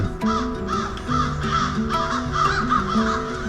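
Crows caw repeatedly in a forest, several harsh calls overlapping in a busy, continuous chorus that sounds close and loud, with no pause between the calls.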